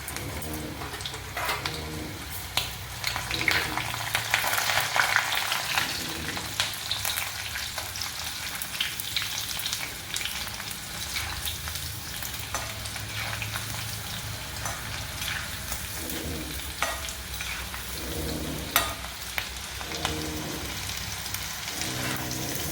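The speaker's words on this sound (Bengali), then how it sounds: "এটা হাই ফ্লেমেই ভাজতে হবে।" Okra fries in oil over a high flame, a continuous dense crackling sizzle with bubbling, close and steady, with occasional soft stirring and clinks.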